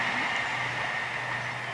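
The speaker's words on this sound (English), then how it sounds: "There's a train about to come past our house, so you should be able to hear a little bit of that" A train rolls past near a house with a steady, even rumble that holds throughout, with no voices.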